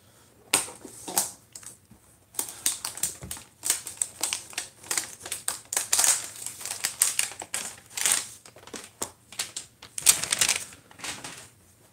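Sealed trading card box packaging being cut open from the top, a run of close, irregular crinkling, snipping and tearing sounds in bursts, with no talking.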